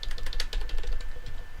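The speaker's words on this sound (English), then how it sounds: "I'm typing this out." Rapid typing on a computer keyboard, a close burst of sharp irregular key clicks running continuously through the moment with no talk.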